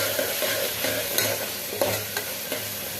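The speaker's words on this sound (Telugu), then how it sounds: "మరొకసారి అంతా బాగా కలిపేద్దాం." A green peas curry with spice powder fries in a pan while being stirred, a dense sizzle carrying repeated scraping strokes of the spoon against the pan, close and fairly loud, with no voices.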